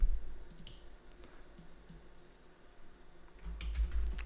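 Tapping on a computer keyboard as short task words are entered, with faint scattered clicks that grow busier toward the end and no voices.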